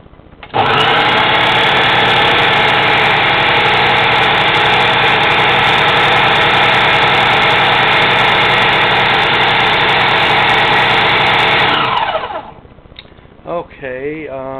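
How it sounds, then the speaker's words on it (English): Blender motor whirring loudly and steadily as it purees frozen bananas into ice cream, a dense harmonic drone for about twelve seconds that stops abruptly, followed by a brief spoken voice. "I'm going to blend it at different speeds because sometimes it'll get a little more texture to it that way."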